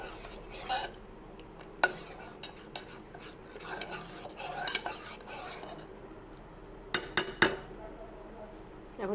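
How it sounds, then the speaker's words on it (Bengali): A spoon scrapes and clinks in a pan as semolina is stirred into a palm mixture, with irregular close metallic taps and a soft background hiss. "এই যে সুজি আর সব কিছু মিক্স করে ফেলছি।"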